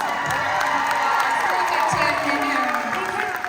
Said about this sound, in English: He deserves a round of fucking applause.